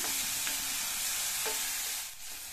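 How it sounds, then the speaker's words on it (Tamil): Finely chopped onions sauté in a pan with a steady, moderately loud sizzle and a couple of soft spatula stirs, easing slightly quieter near the end. "சேர்த்த வெங்காயத்தை ஒரு 30 செகண்ட்ஸ்க்கு வதக்கியிருக்கேன்."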